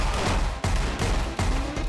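Rapid, dense gunfire from the Anger Foot video game, loud and continuous, with a few brief gaps between bursts.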